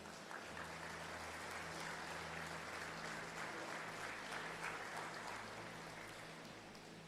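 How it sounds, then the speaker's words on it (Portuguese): A church congregation applauds at a worship service, producing a dense, steady, rain-like patter of many hands clapping at an even level with a low hum beneath, without talk. "Você pode aplaudir o Senhor Jesus?"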